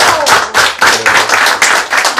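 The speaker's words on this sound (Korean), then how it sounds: "우리 박수 드리겠습니다" A church congregation claps in thanks at a Sunday service, a few loose bursts of hand claps coming in uneven waves over about two seconds, fairly close and with no talking.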